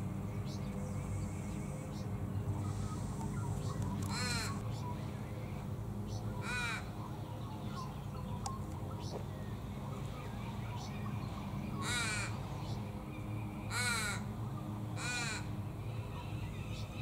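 Australian ravens feeding on silky oak nectar give several loud drawn-out caws at intervals over a steady background hum, with faint voices in places.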